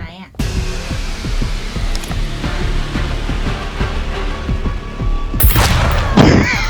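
Loud booming shots ring out in the video game SCUM, with rapid sharp pops scattered through a noisy stretch and a heavy blast near the end, under some speech.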